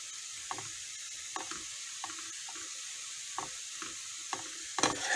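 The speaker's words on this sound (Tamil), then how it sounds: "நல்லா ஆட் பண்ணி நல்லா வதக்கி எடுத்துக்கோங்க." Carrot and capsicum masala with salt, turmeric and sambar powder being sautéed in a pan, a steady sizzle with a spoon scraping and stirring at a regular pace, close and alone with no voices.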